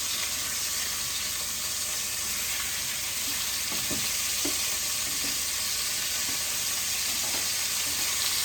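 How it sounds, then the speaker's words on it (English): Pork pieces browning and searing in a good-sized pan for pork cacciatora, a loud, dense, continuous sizzle with a few faint clicks of movement, close up and without talk. "all I'm doing here is browning. I just want to get these brown, kind of seared on the end."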